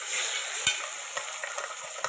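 Onion and tomato sauté in a pan for a bitter gourd tamarind curry. A gentle, airy hiss carries through, with a handful of quick spoon taps against the pan. No talking.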